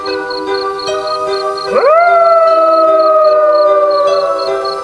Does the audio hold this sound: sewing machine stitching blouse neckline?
no